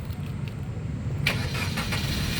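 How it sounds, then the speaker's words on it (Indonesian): A 2013 Suzuki Ertiga 1.4 GX manual car engine starting: a low steady rumble, then a brief sharp burst as it catches about halfway through, settling into a continuous close idle. "Coba kita nyalakan mobil."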